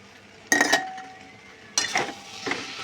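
A utensil clanks and scrapes in a pan as prawns are stir-fried with boiled green jackfruit, in two short metallic bursts and then a softer third, with quiet pauses between.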